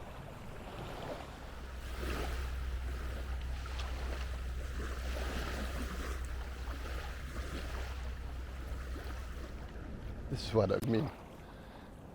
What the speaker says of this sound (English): So there is a boat coming by, but you can't see it.